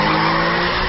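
Car tires skid in a long, loud, continuous screech as a speeding car stops abruptly on the road. The sustained squeal fills the whole moment without a break.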